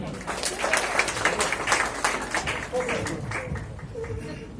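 Audience applause at a Vistar Foundation programme in Jabalpur, a dense crowd clapping steadily at moderate loudness that thins out toward the end, with a voice speaking over it.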